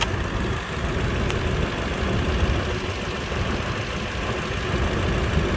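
A 2004 Lexus GX470 engine idling under the open hood, a steady, smooth low hum with a faint even knock, close by and constant with no talking.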